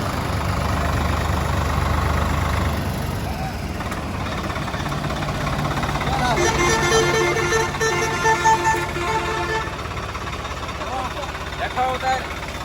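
A brand-new tractor engine idles with a steady low rumble throughout, while people talk over it close by.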